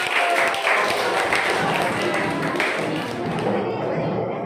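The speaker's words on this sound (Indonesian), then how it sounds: "Oke, kasih tepuk tangan dulu biar semangat." A class of students applauds together in a classroom, a dense, steady wash of clapping close by that holds throughout and fades slightly at the end.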